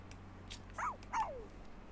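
Two dogs in a home, the owner's and the next-door neighbor's, give a couple of short yipping barks in quick succession, moderately close and alone, with no one talking.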